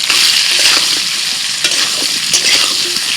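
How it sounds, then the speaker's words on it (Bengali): Loud, steady sizzling of potatoes coated with turmeric and salt frying in hot oil in a wok, with occasional stirring scrapes; no voices. "কড়াই তেল দিয়ে দিয়েছি তেল গরম হয়ে গেছে আলু ভেজে নিচ্ছি"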